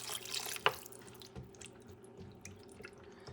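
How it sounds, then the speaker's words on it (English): Water added to a soup pot for caldo verde with collard greens and sausages, a quiet close pour from a tap with soft splashing and dripping, fading into faint trickles. "So what I'm going to do now, add water."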